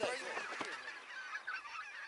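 Geese honking in flight during a goose hunt in Belarus, a dense chorus of overlapping calls sounding fairly close and steady throughout.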